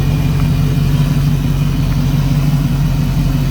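A 1993 Ford Foxbody notchback's engine runs at a steady, fairly loud idle with a constant low rumble and no talk over it.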